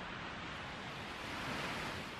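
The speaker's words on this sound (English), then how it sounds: "The sound of the ocean has been with us for millions of years." Ocean waves wash in a continuous, broad hiss of surf with a soft low rumble, steady and fairly loud with slight swells, and no voices over it.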